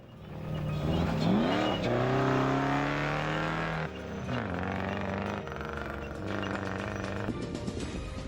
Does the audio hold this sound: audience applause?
no